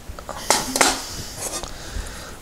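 Metal Trangia camping cook pots being handled, giving a few sharp clanks and rattles near the start, then softer scattered knocks over a faint background.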